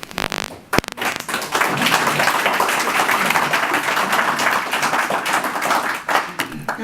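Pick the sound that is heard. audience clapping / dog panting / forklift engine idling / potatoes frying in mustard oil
audience clapping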